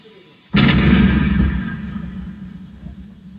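A single heavy cannon boom from an Amer Palace light and sound show, a sharp loud onset followed by a long rolling rumble that fades over about three seconds.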